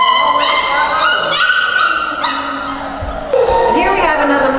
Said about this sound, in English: And here we have another litter of puppies.